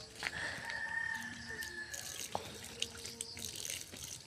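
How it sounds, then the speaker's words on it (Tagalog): Water poured onto bamboo from a tap or container, a faint trickling with a few drips, with a rooster crowing nearby over it. "Giuhaw daw guys, manang butangan og tubig."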